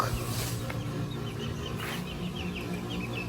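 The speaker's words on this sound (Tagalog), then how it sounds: "Native na manok." Native chickens cluck and chatter at moderate distance over a steady low background hum in Batangas, with soft overlapping calls throughout.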